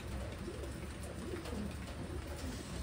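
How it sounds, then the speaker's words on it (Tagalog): Pigeons coo softly and repeatedly in a close loft, low throaty rolling calls overlapping against a steady background hum. "Ayan mga kalapatids."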